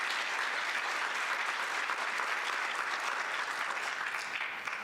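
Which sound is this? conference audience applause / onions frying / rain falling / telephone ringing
conference audience applause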